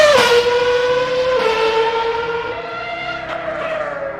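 A 2009 Ferrari F60 Formula 1 car in a racing game screams loud and near throughout, its high V8 engine note rising and dropping sharply between gear shifts, with no talking over it.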